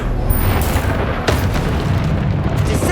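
A Confringo fire spell in Hogwarts Legacy detonates as a loud, rumbling booming blast with crackling debris, dense and close for the whole stretch.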